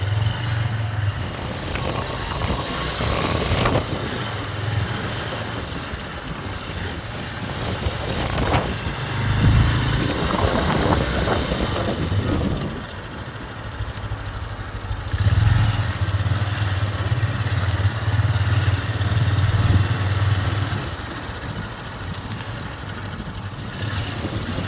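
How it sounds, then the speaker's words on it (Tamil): A motorbike rides through a rain-flooded road on the Maruthankerni route, its engine rising and falling in low surges over steady wind buffeting and occasional splashing clatter. "இப்போ நாங்கள் பெரிய குளத்துக்குள்ளால பைக்கு கொண்டு போகிறோம்."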